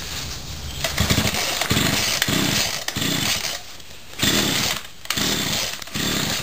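A bike powered by a small weedeater engine buzzes loudly and close, its rough two-stroke whine rising and falling in repeated revving bursts with short dips between them.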